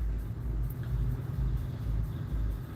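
Car traffic on a Chicago highway heard from inside a moving vehicle: a continuous deep road rumble with gentle swells, close and steady throughout.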